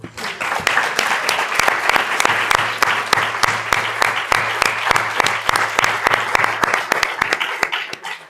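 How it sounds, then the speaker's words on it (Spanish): Sustained audience applause at a conference talk on fashion and history, a thick, even wash of many hands clapping with a few sharper individual claps standing out, steady and close for several seconds. "Vamos a darle un aplauso, ¿no?"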